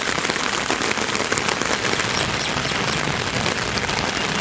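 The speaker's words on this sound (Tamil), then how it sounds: "வாணியம்பாடியில் 2வது நாளாக கனமழை பெய்தது" Heavy rain pours down steadily in Vaniyambadi, Tirupathur district, a dense, loud, continuous hiss of drops hitting surfaces with no break.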